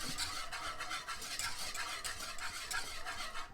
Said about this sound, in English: and keep stirring it.